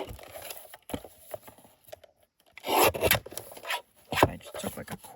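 Trimming the edges of a masterboard pocket frame with mitered corners, cutting about a quarter inch off two sides: close scraping and rasping strokes in irregular bursts, loudest near the middle and end.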